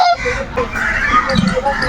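A goose at the national zoo in Bangladesh honks loudly and close, giving several nasal calls in quick succession with people faintly audible in the background.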